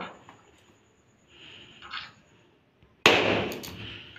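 A green balloon pops once with a sharp, loud bang close by, after a few seconds of quiet rustling and soft background noise, then the burst's ring fades out.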